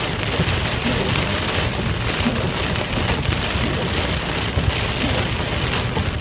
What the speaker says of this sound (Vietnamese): Đây nè các bạn thấy trời mưa ở Melbourne không, ở Úc đó.